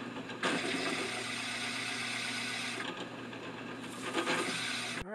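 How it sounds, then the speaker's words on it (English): Barrel trimmer squaring the ends of a pen blank for a PSI measuring spoon kit, a steady close whirring grind with mechanical chatter that runs continuously, dipping briefly near the middle before resuming, with no talk. "now it's off to the barrel trimmer. Trim them ends nice and square."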